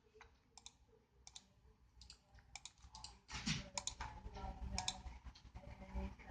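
Computer mouse clicks at a networked PC running a recycling machine control program, a string of sharp, close, quiet clicks spaced irregularly over a low room hum, growing busier and denser partway through.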